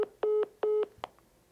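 Phone keypad tones sound during a call while muting it: a sequence of several steady beeps, two of them held longer, followed by a short click, close and clear.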